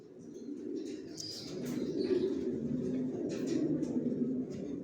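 Pigeons coo softly and continuously inside a pigeon loft, a low murmuring chorus with a few faint chirps and wing rustles, fairly quiet and without voices.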